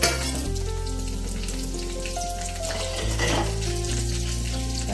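Urad dal, mustard seeds and cumin sizzle and crackle steadily in hot oil along with turmeric, with loud continuous frying and occasional stirring scrapes, close up and with no voices.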